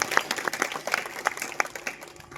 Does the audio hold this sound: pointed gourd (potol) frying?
no